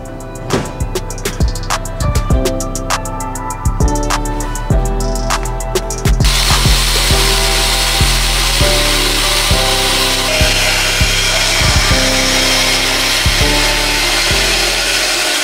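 A power tool cuts through Toyota pickup front bumper pieces in a loud, close, continuous grinding whine with rhythmic pulsing chatter at first, then a steadier, harsher cut that runs to the end.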